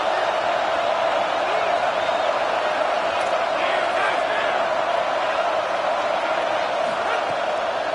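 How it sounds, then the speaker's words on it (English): A stadium crowd at a football game cheers for the defense on a big third down, a steady loud roar of many voices that holds without a break. "Big third down as the crowd gets behind this defense."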